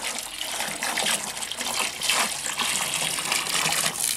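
Water gushes and splashes steadily for several seconds as it is poured in a chicken coop, close by, a continuous pouring rush with no voices.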